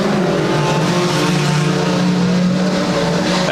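Junior sedan race cars racing on a circuit, engines roaring loudly and continuously with rising and falling revs as the cars pass close by, with no speech.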